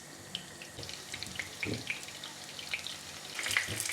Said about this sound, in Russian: И на хорошо разогретой сковородке жарим карди в кляре.